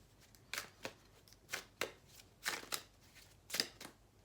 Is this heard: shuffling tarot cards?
yes